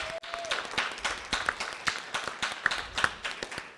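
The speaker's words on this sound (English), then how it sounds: "Let's give them another round of applause." Applause from an audience at a school board meeting, a light patter of individual claps ringing out fairly close and moderately loud, with a brief voice near the start.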